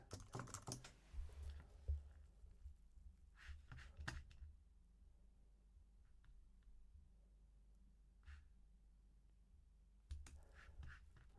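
Typing on a computer keyboard, quick bursts of close clicking keys separated by quiet pauses, faint and alone.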